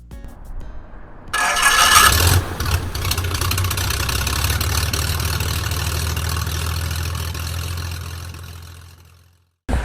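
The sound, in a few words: Corvair aircraft engine starting and idling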